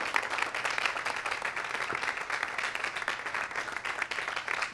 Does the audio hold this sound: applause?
yes